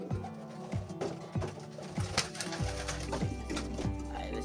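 Pigeons in a new loft give repeated low coos at a steady rhythm, close by, against a busy background of other bird calls and rustling.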